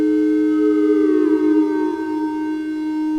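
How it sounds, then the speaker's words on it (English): Soma Lyra-8 drone synthesizer with its delay feeding back, a sustained siren-like harmonic drone whose upper tones sweep and bend midway before settling, steady and loud with no voices. "the basic delay. You're hearing it feeding back"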